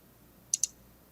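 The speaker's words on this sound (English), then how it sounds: "typing in the passcode there" Two quick, light taps, close and crisp, of fingers entering a passcode on a phone touchscreen, over faint background quiet.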